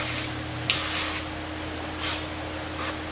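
Several short, close spritzes of avocado oil from a spray can, irregularly spaced over a steady low background hum, with no voices.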